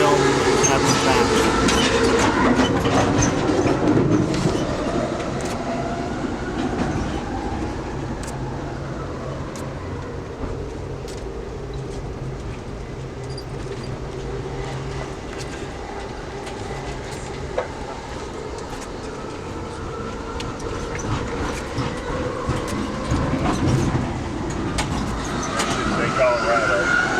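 Steady low rumble of an Amtrak California Zephyr passenger train rolling along the rails, with faint rhythmic clatter and people talking over the continuous noise throughout.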